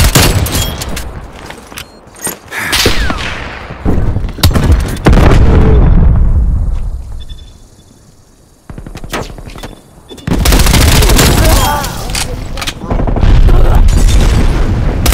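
A Semtex grenade blast in Call of Duty on the Nuketown map: loud, near booms and bursts of gunfire fill the scene, with a trailing explosion decay and a brief quieter gap before the shooting resumes.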